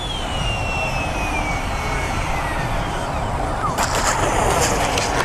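Radio-controlled Freewing F/A-18C Hornet 90mm EDF jet in Blue Angels scheme on landing approach, a steady close whooshing ducted-fan whine with a falling tone, turning rougher and gusty near the end.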